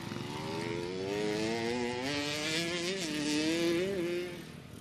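Newly started motorcycle, a brand-new bike, running nearby with a buzzing engine drone whose pitch rises and wavers as the throttle moves, then eases off at the end.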